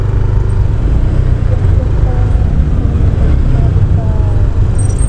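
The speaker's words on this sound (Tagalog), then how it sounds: "May traffic tayo." Road traffic crawling along a narrow road at night, a steady loud rumble of engines close by with faint higher tones drifting over it and no break in the noise.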